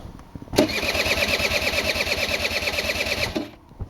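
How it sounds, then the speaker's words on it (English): Electric starter cranking a 1992 Honda Dio SR special edition scooter, a rapid rhythmic whirring churn lasting about three seconds without catching, loud and close, then stopping. "So first you gotta pull on a brake lever, right? And then hit your starter button."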